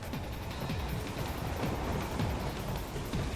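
A train rolling along in the Metal Gear Rising: Revengeance video game, a steady low rumble with repeated rhythmic clacks, fairly faint and continuous with no talk.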